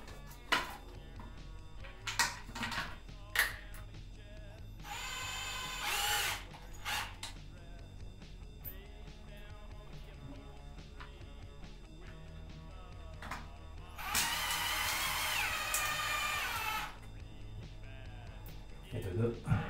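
A Parkside 12-volt cordless drill driving screws to mount a ceiling light fixture, two loud whirring bursts of a few seconds each with taps and handling noises between them and some talk nearby.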